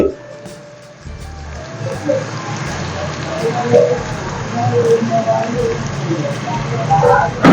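Thinly sliced onions hit hot oil in a pan for Nellore-style fish curry, raising a dense, crackling sizzle that swells and stays busy while a voice talks over it.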